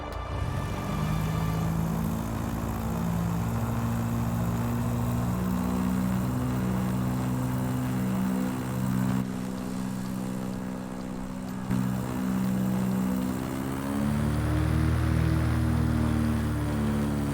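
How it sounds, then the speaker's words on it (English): Simulated aircraft propeller engines in Microsoft Flight Simulator idle as a steady, droning hum with layered tones, running continuously without talk. "It's an odd sound for the engines, if I do say so."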